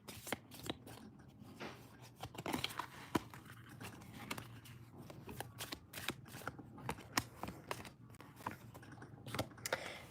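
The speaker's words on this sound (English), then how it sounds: "Sorry, I didn't shuffle these good enough" A deck of tarot cards is shuffled by hand, with repeated quick riffling and slapping bursts, close and fairly quiet, continuing without any talk.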